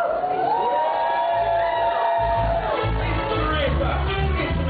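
A large audience at a 2013 awards ceremony cheers, whoops and shouts for a dub poet, a dense, sustained roar of voices that fills the whole moment.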